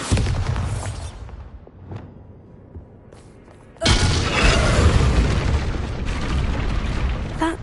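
Bombarda spell in Hogwarts Legacy, aimed at a chess piece in a wizard chess game: a quiet lead-in with a faint pop, then a sudden loud, broad blast that settles into a sustained rumbling roar, with no voices.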